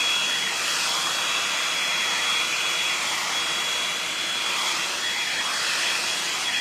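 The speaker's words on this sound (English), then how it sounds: "Just gonna blow dry this." A handheld hair dryer blows hair dry during a get-ready-with-me routine, giving a steady, loud, continuous whoosh that runs unbroken and close throughout with no talking.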